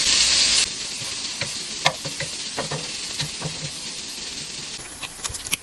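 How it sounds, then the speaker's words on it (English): Bacon frying in a spoonful of oil in a pan over low heat, a close, continuous sizzle with scattered crackles and pops and a few scraping stirs against the pan. "When the oil warm up, we add the bacon first."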